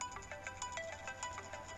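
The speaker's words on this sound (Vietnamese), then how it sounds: "Xin lỗi nhé, tôi nghe điện thoại đã." A phone ringtone plays a bright, repeating electronic melody in quick, regular bursts, clear and fairly close, with no one speaking over it.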